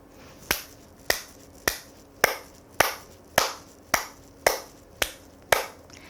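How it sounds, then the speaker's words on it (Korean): Firm hand claps in a home clapping exercise: eleven sharp, evenly spaced claps about half a second apart, close and crisp with quick decays and nothing else in between. "박수치기부터 시작하겠습니다. 살살 하시는 것보다 조금 힘주어 쳐주시는 게 좋습니다."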